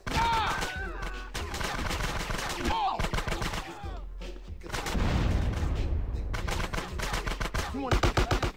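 Gunfire in GTA San Andreas, with bursts of rapid shots and booming impacts running throughout, mixed with game noise and someone talking over much of the action.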